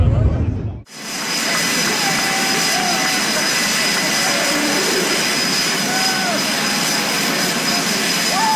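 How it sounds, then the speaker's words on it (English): A jet aircraft roars past at an Australian air show: a sudden, very close, loud and sustained engine blast that fills the whole scene. "During Australia's air shows, planes zoom right past the viewers, getting unbelievably close."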